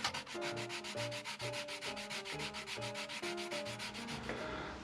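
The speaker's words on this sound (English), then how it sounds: "I have sanded this to 400 grit" Sandpaper rubs against a cracked natural edge wooden bowl spinning on a woodturning lathe, a close, steady rhythmic scratching pulse over a low humming drone.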